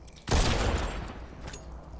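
A sudden close burst of gunfire from an enemy firing in a shooter game, loud sharp onset that decays into a rumbling tail with a fainter shot after.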